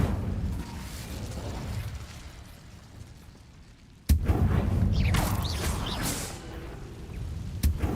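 Casting the Incendio fire spell in Hogwarts Legacy sets off a sudden loud burst of roaring flame that follows a stretch of low rumble, then fades, with a second sharp crack near the end.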